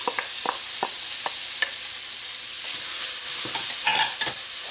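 Onions, carrots and okra sauté in a hot pan for Trinidadian coo coo, giving a steady, loud sizzle broken by scattered scrapes and clacks of a spoon stirring the vegetables.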